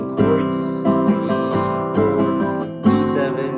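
Guitar strumming the chorus chords of a song, steady rhythmic chord strokes roughly every second, close and clear with no talking.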